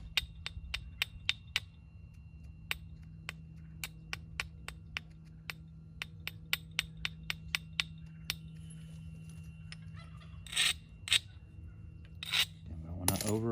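Sharp, clicking taps of a tool pressure-flaking the edge of an agatized coral spearpoint, beveling it, come in a quick, fairly regular series, close and crisp, followed by a few louder scraping strikes near the end, with a steady low hum underneath.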